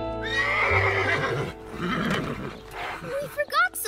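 Cartoon horse neighs in a long, high whinny at close range, mixed with voices talking, followed by a short squeaky sound at the end.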